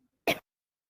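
A single short, sharp cough from a teacher during an online physics class, close to the microphone, isolated in silence.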